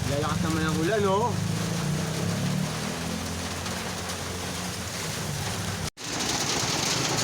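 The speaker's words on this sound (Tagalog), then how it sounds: "Lalakas naman ang ulan, oh." Steady heavy rain hisses outdoors at a street stall with a cover overhead, loud and continuous throughout, with someone talking over it near the start.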